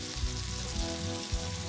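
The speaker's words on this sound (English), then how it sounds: "You want to make sure that your pork chops are all where that hot oil is." Pork chops frying in hot oil in a pan, a steady loud broadband sizzle close up with a few low thumps as the meat shifts, no voices.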